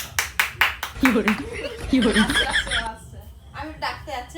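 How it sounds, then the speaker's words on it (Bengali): Audience clapping hands for a woman being welcomed onto a stage at a home celebration, several bursts of claps at the start mixed with laughter and someone talking over it. "হাততালি দাও"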